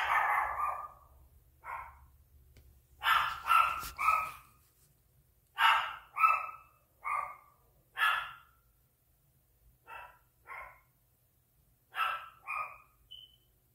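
A dog kept at home barks in short bursts of two or three sharp yelps, alone and fairly close, with quiet pauses between the bursts.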